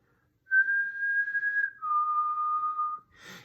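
Someone whistles a short, clear tune of two long sustained notes, the second lower, followed by a brief soft rustle.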